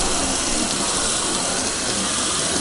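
Garden hose on its shower setting spraying water onto a waxed car, a loud, steady, close hiss of spray running without pause.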